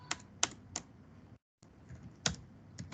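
Code being typed on a computer keyboard in a handful of distinct close key clicks, spaced irregularly around a brief silent gap.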